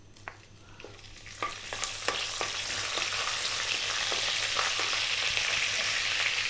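Fresh curry leaves drop into hot oil with red chili, setting off a few sharp pops before a loud, steady sizzle that swells and holds without any voices.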